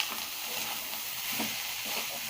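Cooked rice fries with onions in a pan, giving a soft, continuous sizzle broken by brief scraping stirs of a spoon, close and unaccompanied by speech.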